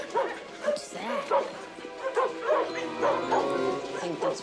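Several dogs bark, yip and whimper in a steady, overlapping chorus that sounds fairly close, from a 1991 television series, with no clear talk over it.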